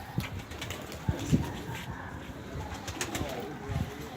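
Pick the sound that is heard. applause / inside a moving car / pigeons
pigeons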